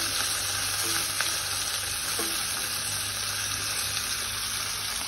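Chopped tomatoes sizzle and fry steadily in a hot pan during a Filipino sauté for ginisang ampalaya, with an even, continuous crackle and occasional stirring scrapes, close by and with no talk.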